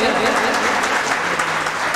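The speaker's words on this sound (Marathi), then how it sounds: "एकदा जोरदार टाळ्या वाजवा प्लीज" Audience applause at a poetry book launch, a dense, steady wash of clapping that holds for the whole moment, loud and close with a murmur of voices mixed in.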